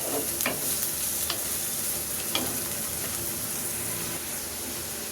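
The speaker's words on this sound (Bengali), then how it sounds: "পেঁয়াজটা একটু ভাজা ভাজা হয়ে যায়।" Onions frying in mustard oil in a wok: a steady, quiet sizzle with a few brief scrapes of stirring, and no voices.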